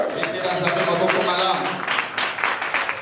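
Members of a church congregation applaud the Lord during Sunday worship, brief rhythmic clapping blended with loud voices.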